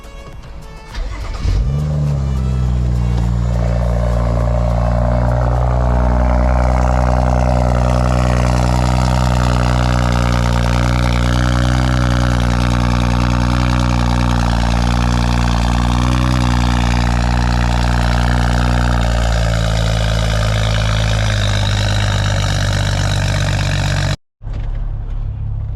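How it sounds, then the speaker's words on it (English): A BMW 535i with a 3-inch single-exit exhaust cold-starts with a short crank and a loud flare, then settles into a deep, steady, high idle that drops slightly near the end, close and loud, before cutting briefly. "let's get a cold start"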